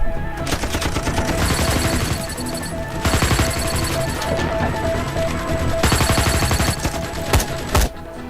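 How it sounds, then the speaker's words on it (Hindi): Heavy gunfire in an action scene from the Hindi film Pathan, with dense, rapid bursts of shots layered over a loud, continuous score, filling the whole stretch without pause. "हम तो फायरिंग कर रहे हैं सर"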